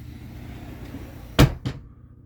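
A Marathon bus door worked by a push button: two quick mechanical clunks in close succession, fairly close, against a low steady background hum.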